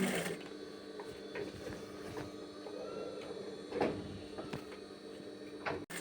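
A sewing machine stitches the shoulder seam of a dress, producing a quiet, steady mechanical motor whir with a few soft knocks and handling clicks, and no voices.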